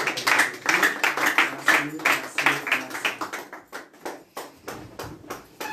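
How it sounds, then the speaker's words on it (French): Church congregation at a French-language worship service clapping loudly in unison, a fast steady rhythm of many hands that starts dense and strong, then thins to sparser, fading claps near the end. "Acclamons très fort."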